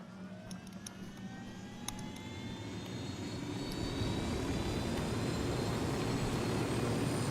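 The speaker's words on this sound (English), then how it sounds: "Oh yeah, we got your helicopter." A helicopter engine in the video game Ghost Recon Wildlands drones steadily and grows gradually louder, its whining tone shifting slightly as it builds.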